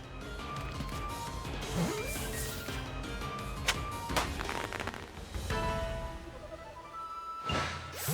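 A Poké Ball in Pokémon Legends: Arceus whooshes and bounces amid busy game effects: several sharp knocks and swishes over a dense, layered background of tones and clatter.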